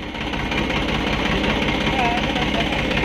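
A tractor engine idles with a steady low mechanical rumble and rattle, close and continuous, while people talk over it.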